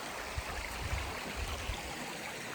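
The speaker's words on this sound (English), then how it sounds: "Got a lovely little creek here to get water tonight." A small creek on the Appalachian Trail flows with a continuous, soft rushing and gurgling, steady and close, with no voices.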